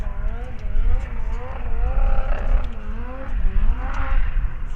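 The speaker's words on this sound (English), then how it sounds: "we pan back to the burnouts." A drag racing car doing a burnout on a drag strip, its engine roaring loud and close in rising and falling revs with tire noise throughout.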